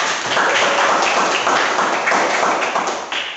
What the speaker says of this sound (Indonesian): Aplaus dulu buat Nisa.